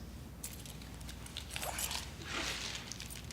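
A set of keys is handled near a walk-through metal detector, jingling and clinking softly in a few brief metallic rattles over a steady background hiss.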